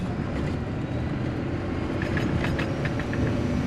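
A Cummins diesel truck engine drones steadily at about 2,000 RPM in first gear while the driver feathers the throttle, a loud, continuous low rumble from inside the cab with no talking.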